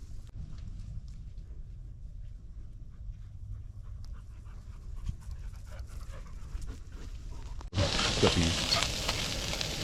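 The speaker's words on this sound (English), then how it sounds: "Flipping them sausages." Sausages sizzle and crackle in a frying pan as they are flipped, a steady close hiss that swells sharply louder near the end, with a dog panting nearby.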